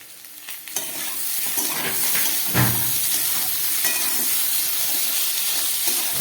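Tomato pieces frying with spices in a hot pan for a vegetarian kachori curry, a steady loud sizzle and hiss with occasional stirring clatter throughout.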